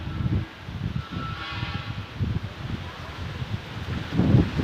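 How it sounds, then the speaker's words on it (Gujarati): Strong gusty wind blows beside a river near a temple and garden, buffeting the microphone in low rumbling surges that rise and fall throughout. "વાવાઝોડું મિત્રો ચાલુ થઈ ગયું જો પવન બહુ આવે છે"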